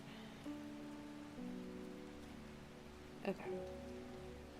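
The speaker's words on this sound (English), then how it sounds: "This rain and this audio is so soothing." Soft, steady rain patters in the video game Strange Horticulture, faint beneath gentle sustained musical tones. A voice says one brief word near the end.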